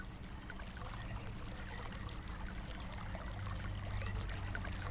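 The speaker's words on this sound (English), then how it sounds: "that sounds like water is now flowing." In the video game realMyst, water flows in the Channelwood Age after a valve is turned, a steady, even rushing wash that swells slightly toward the end, with no voices.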